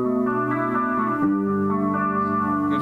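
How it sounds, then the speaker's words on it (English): An electric guitar played through a Boss chorus pedal rings out sustained, shimmering notes and a slow chord change, the tone thickened and gently wavering, close and clean without any talk. "here's with chorus"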